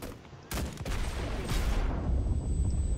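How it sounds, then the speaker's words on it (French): Artillery bombardment and gunfire in the World War II shooter Enlisted: a sharp, loud blast hits after a quiet moment, followed by a heavy rumbling barrage and scattered shots that linger. "oh, le bombardement, il m'a eu"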